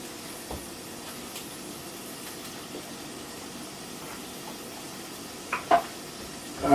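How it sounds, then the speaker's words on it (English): Kale fries in a pan with a steady, soft sizzling hiss, close and continuous, broken by a few light clinks and stirring knocks toward the end. "It's starting to do that sizzle."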